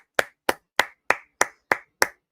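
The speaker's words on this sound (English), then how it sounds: "Round of applause." Eight sharp, close hand claps land at an even, unhurried pace about a third of a second apart, each crisp and isolated against near silence.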